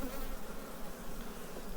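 Dense, continuous buzzing of many honeybees, close and fairly loud, with no talking.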